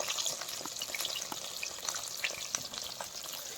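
Bhakur fish fries in a pan over a smoky cooking fire, giving a dense continuous sizzle and crackle with scattered sharp pops, close and steady, with no voices.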